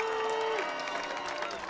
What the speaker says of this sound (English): Crowd is active and loud right here.